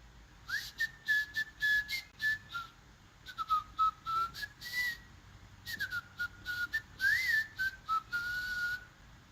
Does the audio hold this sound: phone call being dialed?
no